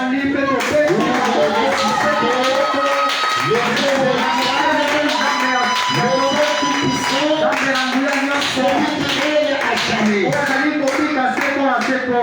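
A church congregation applauding loudly during a sermon, dense sustained clapping from many hands with a brief lull near the start, voices mixed in throughout.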